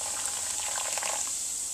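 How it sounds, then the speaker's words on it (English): Silver cleaning solution made from kitchen ingredients fizzes as water is poured in from a height, a steady close bright hiss of bubbling liquid with no speech. "as you pour it in from a height you'll see it refizzes again"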